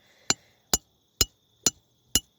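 Five sharp metallic strikes of a hammer driving a crowbar into the ground to dig, evenly spaced at about half-second intervals, close and ringing, with quiet between blows.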